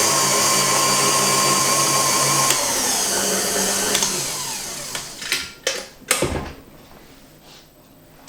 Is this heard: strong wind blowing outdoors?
no